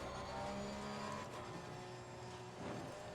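A race car engine at held, steady throttle in Assetto Corsa Competizione, racing at Spa, giving a constant droning engine tone with faint tyre noise, loud and unbroken throughout.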